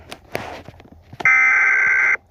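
EAS emergency alert tone made in KineMaster, a loud steady buzzing alarm lasting about a second, preceded by a few soft taps and clicks.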